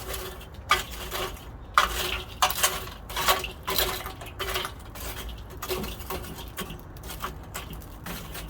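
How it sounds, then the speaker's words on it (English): Old charcoal being stirred into a grill of coals, bright clinking and scraping in irregular bursts with short pauses, close and fairly quiet. "I had them at the edges here, some of the old coals. I'm just going to go ahead and mix them up in there."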